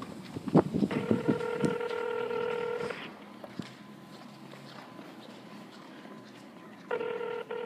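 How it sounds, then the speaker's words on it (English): Touch-tone dialing beeps from a phone as a call is placed inside an elevator at a medical arts center in Murrieta, California: a long steady tone burst, a quiet pause, then another tone, with footsteps and knocks early on. "And I'm gonna try and call Connor right now"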